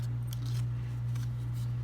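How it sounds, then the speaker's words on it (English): Soft snipping of scissors through paper, a few quiet cuts over a steady low hum. "move the paper along with the scissors"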